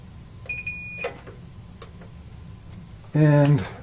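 Multimeter in continuity mode during repair of an arcade game circuit board: a brief tone near the start, then a louder, clear beep at the end over a quiet room background.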